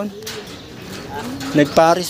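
A racing pigeon coos softly a few times near the end, with quiet background noise and faint voices around it.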